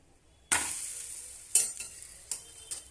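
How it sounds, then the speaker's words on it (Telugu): Millet dosa sizzling on a hot pan, a sudden loud hiss that fades, followed by three quieter sizzling bursts as batter or spatula touches the surface, with no voices. "దోశ ఒకేపు కాలింది. ఈ విధంగా కాలేక టర్న్ చేసుకోవాలి."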